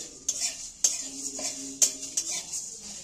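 Chillies and other vegetable chop ingredients are stirred and lightly fried in a pan, with a soft sizzle under several sharp metallic spatula clinks and scrapes at an irregular pace.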